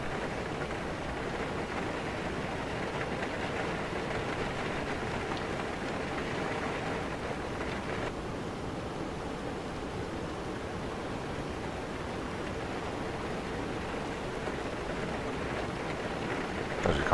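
Steady broadband rain drumming on a Boeing 737-700 airliner in X-Plane 11, a continuous even hiss with dense patter throughout, unbroken by any voice.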